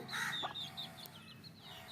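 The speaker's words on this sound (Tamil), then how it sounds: "அந்த கோழி மீன் திங்க வருது பாருங்க" Chickens cluck close by as they peck at scraps of fish and crab, with short repeated clucks over a steady outdoor farmyard background.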